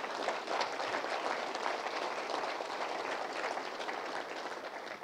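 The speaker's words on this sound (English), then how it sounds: "I'd like to ask for a round of applause to recognize the moderator" A roomful of listeners claps steadily at an academic lecture and panel event, the applause a faint, even wash of many hands heard from a distance and holding steady without voices over it.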